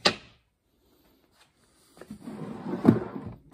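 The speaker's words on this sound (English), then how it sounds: "Now all I have to do is just remove the box" A utility box is pulled out of a drawer in a police cruiser: a sharp knock, a pause, then a rough scraping slide ending in a solid clunk, close and fairly quiet.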